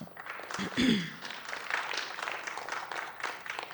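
Applause from the audience at a city budget and public employees committee meeting after a public commenter, a short spread of clapping with murmured voices mixed in, moderately near.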